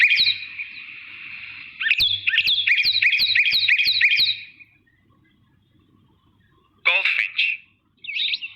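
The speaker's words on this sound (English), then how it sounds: "Cardinal" A northern cardinal sings a series of clear, whistled, sliding notes in a quick repeated run, followed by a pause and two shorter bursts of song, close and bright.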